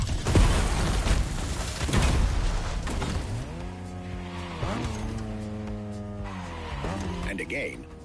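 A 2002 Ferrari Enzo in the racing game Motorfest: loud engine roar with screeching, skidding tires early on, then a steady engine drone whose pitch rises and falls through gear changes.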